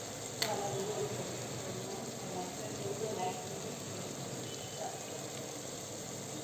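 Onions and tomatoes cook gently in hot oil for a milmaker and potato curry, giving a steady, moderate broadband sizzle with a brief clatter near the start and a voice speaking over it.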